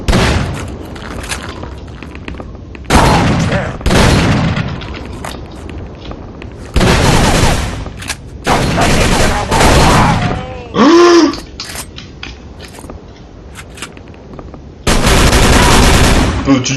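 Machine gun fire in the horror video game Call of Cthulhu, loud sustained bursts of rapid automatic shots broken by short pauses, with booming impacts and a brief roar in between.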